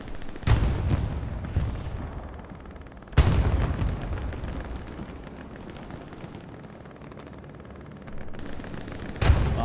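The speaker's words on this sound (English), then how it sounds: "Bombing run, hearing it. That it looks like an IR bombing run." A bombing run in the World War II shooter Hell Let Loose on the Omaha map, with heavy explosive booms landing several seconds apart over a rumbling battlefield din of distant gunfire, and no talk.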